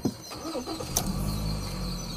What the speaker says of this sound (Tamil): இந்த கார் ஸ்டார்ட் பண்ணுற இப்போ